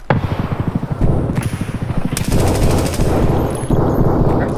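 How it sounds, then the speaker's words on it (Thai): Rapid automatic gunfire in the video game Escape from Tarkov, including a VSS rifle, rattles in dense loud bursts with brief pauses, close and dominant throughout. "ใครยิงอะไรกันอยู่เมื่อกี้ใครยิงอะไรกันอ่ะ"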